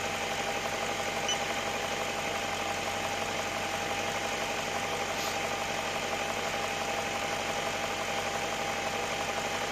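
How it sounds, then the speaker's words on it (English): A BMW 740i engine idling steadily with a diagnostic tool connected, a constant even drone with a faint tonal hum and no speech throughout. "I've got the engine running"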